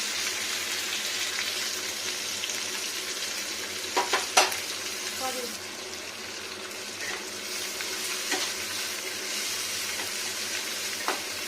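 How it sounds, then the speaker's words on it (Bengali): Chopped onion sizzles in hot mustard oil in a cooking pan, a continuous close frying hiss broken by a few sharp clinks and scrapes of stirring. "এই সর্ষের তেলে পেঁয়াজটা যখন ভাজা যাবে তখন ভালো হবে।"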